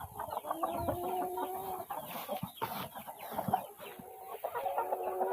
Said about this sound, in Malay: Rhode Island Red